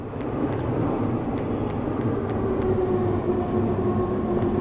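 Train passing in the horror video game Nibansen, a steady low rumbling roar with rattling undertones that holds evenly throughout without fading.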